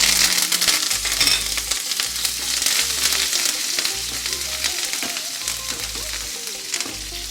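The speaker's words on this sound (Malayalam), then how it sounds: "അതിൽ കടുക് വറുക്കാൻ വേണ്ടിയാണ് ഒരു 2 ടേബിൾ സ്പൂൺ എണ്ണ ഒഴിച്ചു കൊടുക്കുന്നുണ്ട്" Mustard seeds, dried red chilies and curry leaves frying in coconut oil for a beetroot pachadi tempering, with a loud, close crackling sizzle and sharp popping throughout.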